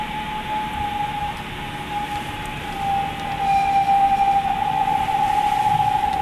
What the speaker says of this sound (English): So what this is a radio signal being reflected off that ionized train.